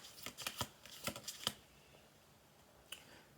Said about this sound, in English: I gotta look when I shuffle.